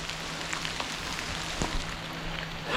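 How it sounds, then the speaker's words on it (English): Rain falls steadily in autumn woods, a soft even patter of drops on leaves and ground, fairly faint and constant with no talk. "It's still raining in the woods."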